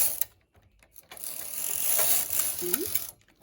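A knitting machine carriage is pushed across the needle bed with the needles in hold position, giving a ratcheting mechanical clatter that swells into a continuous rattling sweep lasting a couple of seconds, close up.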